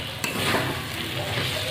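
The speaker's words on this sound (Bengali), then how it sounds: "শাকটাকে আমি ভালো করে এবার নাড়িয়ে নেব।" Bathua greens (beto shak) stirred and frying in a pan, a steady close sizzle with scraping of the spatula and one sharp clink near the start, no voices.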